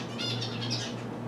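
A pet bird calls close by indoors, with bright chirps over a low steady hum from an air conditioner.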